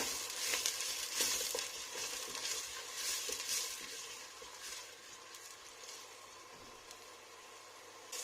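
Onions sautéing with salt in a pan sizzle steadily, with occasional stirring scrapes and a light clatter of utensil against pan throughout.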